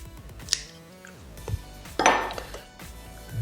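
Garden scissors snip Genovese basil stems while pruning in an AeroGarden Harvest Elite, giving a few sharp, close clicks and a brief rustle of leaves, with no talking.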